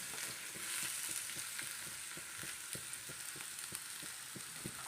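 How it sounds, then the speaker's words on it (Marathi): Onion and green chili frying in hot oil on a griddle, giving a steady low-level hiss with soft scraping stir strokes ticking at an irregular pace, close but faint, and no voices. "आता आपला तेल पण तापलेलं आहे आता आपण कांदा आणि मिरची टाकून घेऊया"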